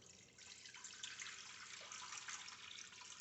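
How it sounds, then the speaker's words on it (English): Water is poured into an Instant Pot holding an egg rack, a soft continuous splashing stream that starts after a short pause and runs steadily at low volume, with no talk. "I'm going to dump in a couple of cups of water."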